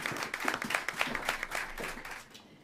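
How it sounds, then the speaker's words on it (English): Audience applause for comedian Lisl Frick taking the stage at a London comedy night: dense, steady clapping from a room full of people, fairly close and lively, fading slightly toward the end. "Give me some applause, give me some love in the room"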